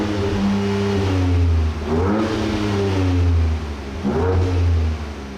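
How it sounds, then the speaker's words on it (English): A 2024 Ford Ranger Raptor pickup in its sporty Baja exhaust mode revs twice, a deep, loud, close engine note rising and holding, then dropping back to idle between pulls. "the exhaust button obviously lets you change the exhaust note"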